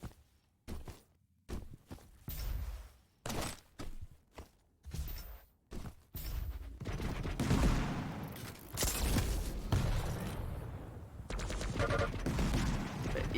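Railgun shots and combat from a Quake Pro League match: sharp, separate bursts with short gaps, then a denser, continuous stretch of loud game action.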